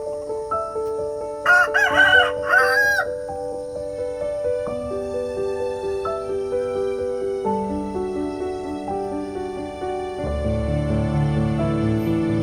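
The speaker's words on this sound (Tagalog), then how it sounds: "dadalhin natin itong mga manok dito." A rooster crows once, loud and close, near the start, rising over steady background music that carries on through the rest of the clip.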